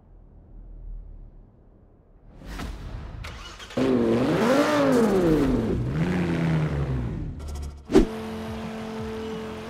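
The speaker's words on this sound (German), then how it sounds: "steigen wir ein, starten den Motor und los geht's mit der schnellen PXA-Teststreckenrunde" A V10 biturbo limousine in Forza Horizon 4 starts up, the engine catching and then revving hard in rising and falling sweeps before settling and giving a sharp blip.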